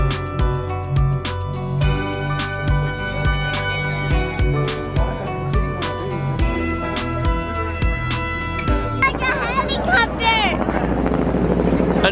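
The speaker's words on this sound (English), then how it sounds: "That is a helicopter." A helicopter flies overhead in a busy place, its steady thudding rotor hum running beneath loud music and chatter for the full stretch.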